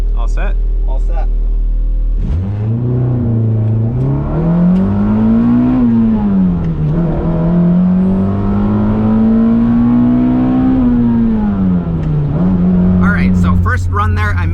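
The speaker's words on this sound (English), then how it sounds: "here we go for the first pull." A K24-swapped Mazda Miata launches hard and accelerates toward 60 mph, its engine note climbing loud and close through the gears with a brief dip at each shift before it settles.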